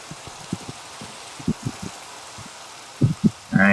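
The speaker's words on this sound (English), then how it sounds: "And now it's raining." Rain falls in Minecraft as a faint, steady patter, with scattered louder drops and a stronger burst near the end. Nobody speaks.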